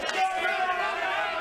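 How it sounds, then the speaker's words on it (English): A crowd cheers and roars from another pool table at a blackball tournament final, a broad, swelling burst of voices that builds and then holds, somewhat distant under the room's noise. "I can hear the crowd cheering."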